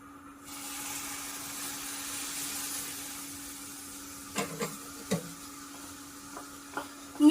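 Strawberry puree with sugar and a pinch of salt cooking in a pan on a gas stove for jam, a steady soft sizzle with a few stirring clinks and scrapes near the end, no talking.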